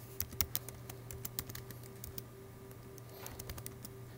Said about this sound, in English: as I start typing it